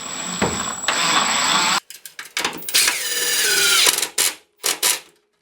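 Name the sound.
screwing a hinge into a block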